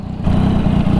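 A second-generation Yamaha MT-09 motorcycle rumbles close by through an aftermarket exhaust, giving a loud, steady low-pitched idle that swells slightly after a brief moment, with no one talking.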